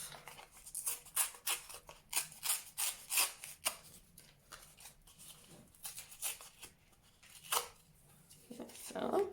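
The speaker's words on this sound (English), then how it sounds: "I've got some craft card. I'm gonna do the same, so we're gonna tear it off" Craft card is torn by hand in a string of quick, papery rips and rustles at close range, with a voice speaking over parts of it.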